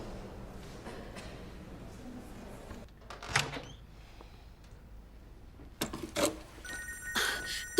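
A mobile phone left in a bathroom rings indoors, with a couple of bursts of ringing standing out over a quiet room with soft movement and door-like knocks.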